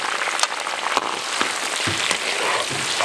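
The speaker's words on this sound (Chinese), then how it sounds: "来放入姜蒜，再放入辣椒和大蒜哈" Ginger, garlic and chili fry in hot oil for a beef noodle sauce, giving a steady, dense sizzle and crackle that runs throughout, fairly loud and close, with a few sharper spits.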